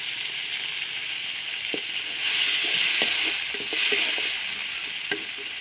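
Tomatoes sauté in a pan with a loud, continuous sizzle, their sound rising in two brief swells, while soft spoon taps and stirring knocks punctuate the hiss.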